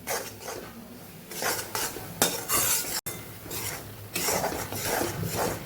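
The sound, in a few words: stirring flour roasting in ghee for mohanthal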